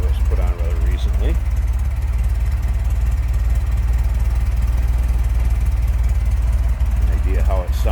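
A 1976 Ferrari 308 GTB Vetroresina with a recently fitted exhaust idles steadily, its deep, even rumble held close and constant throughout, while voices talk briefly over it near the start and end.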